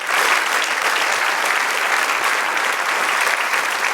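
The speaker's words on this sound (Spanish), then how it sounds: "Da un aplauso al Señor." Congregation at an evangelical church service gives a loud, sustained round of applause, dense and continuous like a crowd ovation, with no pause in the clapping.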